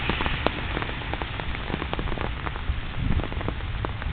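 Steady rain patters on a hard surface, dense tapping drops mixed with a low rumble, continuous and close.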